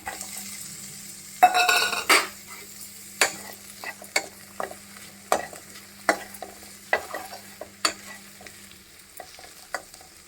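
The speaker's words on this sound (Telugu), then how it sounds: "ఇప్పుడు మనం వెల్లుల్లిపాయలు వేసుకుందాం." Garlic frying with onions in a pan, a low steady sizzle broken by repeated sharp scrapes and clinks of a spoon stirring against the pan, close and without talk.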